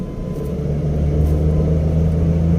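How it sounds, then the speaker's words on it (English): Maruti Suzuki A-Star engine just after a downshift to third gear, a steady low droning hum with a firm mid rumble, close and continuous without any voices. "well, you can hear the engine note."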